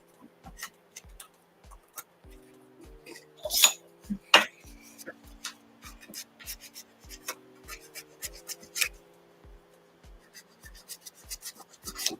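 Light hand sanding of a small scrap wood gnome, heard as steady rhythmic rasping strokes, close and fairly quiet, with a few louder scrapes midway and a faint tonal hum in the background.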